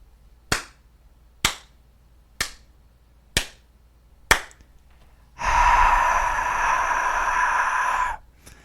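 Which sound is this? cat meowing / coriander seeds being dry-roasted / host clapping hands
host clapping hands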